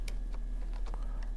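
Fingers tap at a computer keyboard while a formula is entered into a spreadsheet, a quick irregular run of soft close clicks over a low electrical hum.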